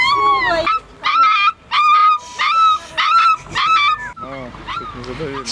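Rescued puppies pulled from under concrete slabs in Barnaul give a close run of high, whining whimpers and sharp yelps in quick overlapping bursts, with a fainter whine trailing off at the end.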